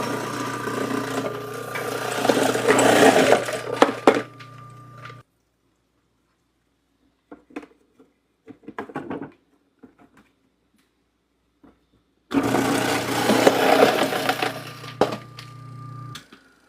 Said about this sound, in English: So this is my okra that's slicing down.